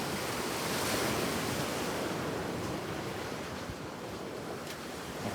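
Pacific Ocean surf washing onto the shore, a steady broad roar of breaking waves with wind noise on the microphone, continuous and fairly close throughout, no voices.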